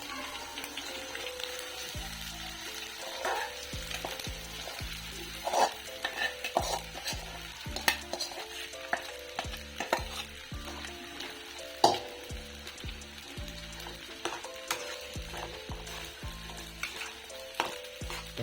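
Sabudana khichdi is stirred in a pan of hot oil, with steady sizzling under repeated scraping and knocking of a spoon against the pan, close and continuous.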